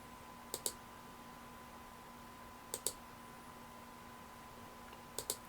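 Three pairs of sharp computer mouse clicks, spaced a couple of seconds apart, close tabs in an Oracle SQL program; each double click is crisp and near against a faint steady electrical hum.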